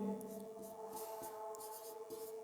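Marker pen squeaking and scratching across a board in a classroom, a run of short strokes at close range, faint and alone.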